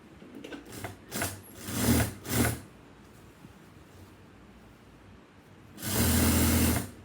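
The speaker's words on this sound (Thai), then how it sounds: "นี่เราต่อตะเข็บหลังเนาะ" A sewing machine stitches the back seam of a shoulder-wrap shawl, sewing the lining and outer piece. It runs close by in two short bursts, then a longer, steady run after a quiet pause.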